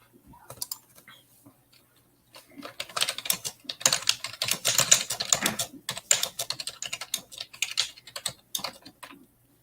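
Fingers type on a differently shaped computer keyboard, starting with a few light scattered clicks before dense, rapid bursts of keystrokes fill most of the stretch nearby, with no talking.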